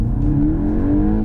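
Volkswagen Golf GTI Mk8 engine revving steadily under acceleration, heard from inside the cabin, its rising drone shifting as the DSG transmission makes an automatic upshift.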